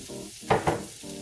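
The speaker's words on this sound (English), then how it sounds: "Oil's ready, let's pop our onion in there," Onion dropped into hot oil in a pan, two quick bursts of sizzle close by that settle into a soft steady crackle over faint kitchen background noise.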